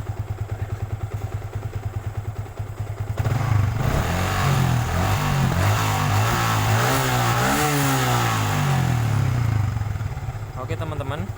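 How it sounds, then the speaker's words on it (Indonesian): A Yamaha Vixion motorcycle engine idles steadily, then is throttled up into a sustained rev with rising and falling pitch before dropping back to idle, loud and close. "Kita coba gas apakah over atau tidak ya."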